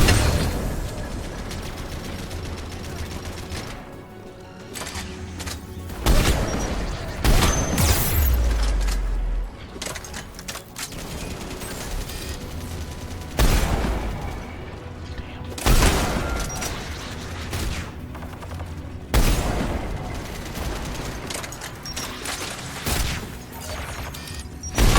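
Gunfire in Mass Effect 3 Legendary Edition on Insanity difficulty, loud sharp bursts of shots and booms recurring every few seconds over a steady game soundscape, with some speech mixed in.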